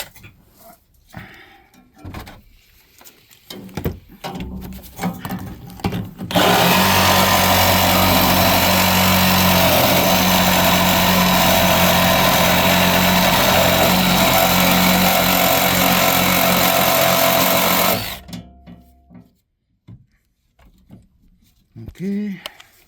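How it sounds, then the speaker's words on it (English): A Sawzall reciprocating saw with a brand-new blade cuts through the metal body of a BMW Z3 drift project car. It makes a loud, steady buzzing rasp for about twelve seconds, with some quieter sounds before and after the cut. "Sawzall ready, brand new blade ready,"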